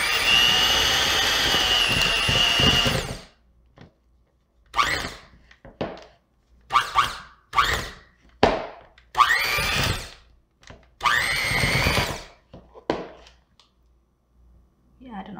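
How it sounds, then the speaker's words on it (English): A kitchen mixer beats cream cheese with sugar and eggs for a cheesecake filling, a loud steady whir at first, then a run of short bursts and pulses separated by silence. "we're going to start beating our cream cheese with our sugar and our eggs one at a time."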